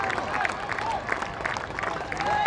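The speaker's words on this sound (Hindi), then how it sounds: "ये शतक का भरपूर तालियों के साथ अभिवादन किया" Stadium crowd at a Vijay Hazare Trophy cricket match between Karnataka and Baroda applauds Padikkal's century, steady clapping and cheering filling the ground at moderate volume throughout.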